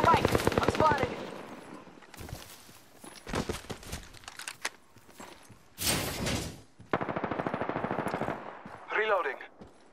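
Automatic weapon fire from the Apex Legends shooter, rapid bursts that come and go across the scene, mixed with footsteps and game voice callouts talking over the action.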